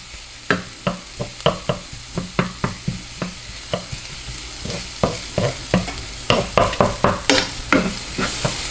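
Onion and garlic frying in a pan give a soft sizzle under a steady run of close spoon scrapes and taps. The stirring quickens toward the end.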